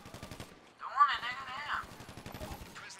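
Rapid gunfire during a prison break heist in GTA V, a burst of fast repeated shots under an excited voice, with a brief whine in the middle.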